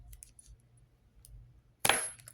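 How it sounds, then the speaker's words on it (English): Small scissors snip through the end of a leather cord during necklace making, a single sharp close cut after quiet handling. "I'm going to just cut that end off of the"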